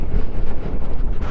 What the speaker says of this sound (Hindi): तेज हवा चल रही है, बहुत तेज।